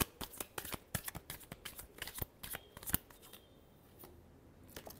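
Tarot cards being shuffled in quick riffling bursts, a dense run of crisp papery flicks and slaps that thins out toward the end, close and fairly quiet with no voices.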